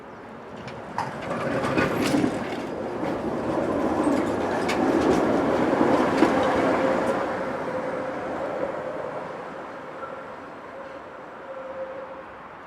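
A tram passes Tondi station in Tallinn, its steady rumble swelling and fading over several seconds, with wheel clicks and a faint squeal near the end, heard close and without talk.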